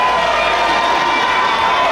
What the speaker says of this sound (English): Listen to that crowd, John.